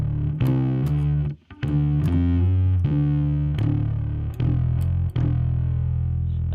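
A bass guitar tuned to drop D plays a song riff slowly, with thick, distorted low notes in a steady rhythm, close and loud with brief pauses between phrases.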